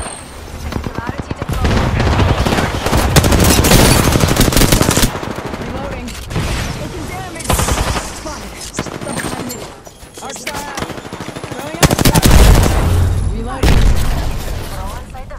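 Rapid video game gunfire rattles in long automatic bursts with heavy booms, loud and near, pausing briefly between volleys while a voice speaks at times.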